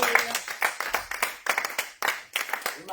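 A church congregation at an Easter service claps in rhythmic, uneven bursts, close and lively, with a few voices faintly audible beneath the applause.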